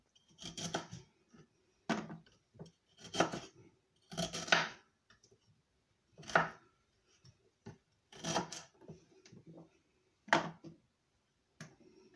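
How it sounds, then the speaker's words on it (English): A knife chops fresh ginger into small pieces on a board in a home kitchen, a series of sharp, separate cuts coming in uneven bursts with short quiet gaps, close and distinct. "I am going to cut up my ginger in small pieces."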